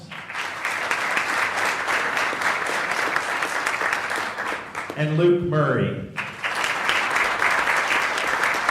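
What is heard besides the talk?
audience applause for the team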